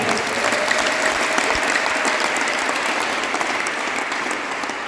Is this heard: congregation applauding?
yes